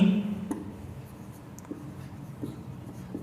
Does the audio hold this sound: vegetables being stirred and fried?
no